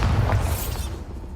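Blasting Bombarda spell exploding in Hogwarts Legacy, a loud close boom with a crackling, shattering tail that fades over about a second.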